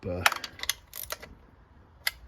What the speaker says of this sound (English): just use my little quarter drive ratchet and just choke right up on it and just snug